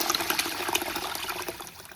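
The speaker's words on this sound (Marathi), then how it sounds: "हे बघा आता तांदळामध्ये पाणी ओतून घेते." Water pours and splashes into a bowl of uncooked rice for biryani as it is rinsed, a continuous gushing, bubbling flow at moderate loudness with no talk.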